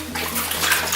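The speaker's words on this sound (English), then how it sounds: "we're going to submerge it into the water" Water sloshing and splashing in a bathtub as a fabric diaper bag is pushed under for a deep-clean soak, a steady close wash of running, churning water with no talk.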